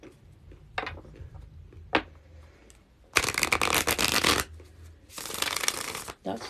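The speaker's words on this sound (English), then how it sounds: "Okay, Susan, I'm going to shuffle for you now." Tarot cards being shuffled in a reading, starting with a few soft flicks and taps, then two long, loud bursts of riffling close to the microphone.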